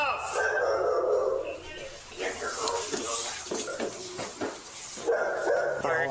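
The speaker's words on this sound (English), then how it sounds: "You need to control that dog, please." A dog barks and yips in short bursts near a doorway while people talk tensely over and around it, with some thumping of doors in the background.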